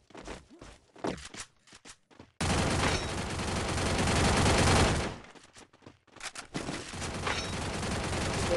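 Bursts of rapid gunfire in Free Fire, a few scattered shots, then a long loud sustained volley that fades, followed by more dense firing.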